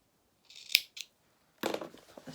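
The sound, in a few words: scissors snipping fabric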